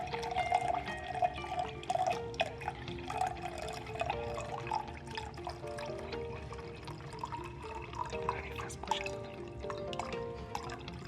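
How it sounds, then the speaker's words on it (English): Distilled water poured into a lab beaker, a soft steady trickle with faint dripping, fairly quiet and continuous without talk over it. "So we're gonna pour 400 mils of distilled water to another beaker."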